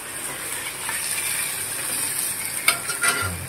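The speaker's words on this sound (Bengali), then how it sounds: "তাই এখন দিয়ে দিচ্ছি বাটার, সাথে কাঁচা লঙ্কা আর স্প্রিং অনিয়নের যে সাদা অংশগুলো হয় ওগুলো দিয়ে দিচ্ছি।" Butter with green chillies and the white parts of spring onion in a pan gives a steady, soft sizzle with light stirring scrapes and a couple of brief clinks near the end, no voices.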